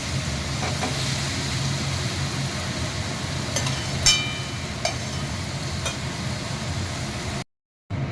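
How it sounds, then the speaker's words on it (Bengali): Raw tomatoes sizzle and hiss steadily in a pan while being stirred for a vegetarian sabji, with a few sharp clinks of a utensil against the pan before the sound cuts out briefly near the end. "এগুলো ওলট পালট করে সাঁতলে নিয়ে ঢেকে দেবো।"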